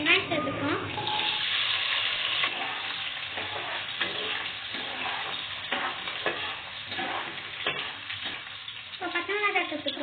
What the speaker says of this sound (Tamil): இப்போ கடுகும் வெந்தயமும் சேர்த்துக்கலாம். பொரி விட்டுக்கலாம்.